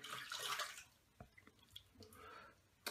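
Water splashes as a face is rinsed during a wet shave, a quick burst of splashing followed by scattered drips and small splashes, faint and close with no talking.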